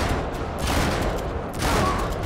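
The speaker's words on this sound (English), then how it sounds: "This is a big boy gun." A big gun fires in Uncharted: Drake's Deception, a dense, loud, continuous spray of shots that swells in two waves with no voices over it.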